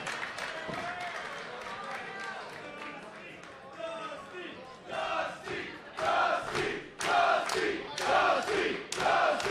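A wrestling show crowd cheers and chants in an arena, building from a general roar into loud rhythmic chanting bursts with clapping, close and dense.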